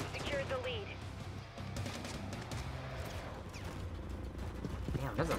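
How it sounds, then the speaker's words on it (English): Firecracker going off in a Call of Duty zombie match, a burst of sharp crackling pops amid dense game gunfire and effects. "Firecracker!"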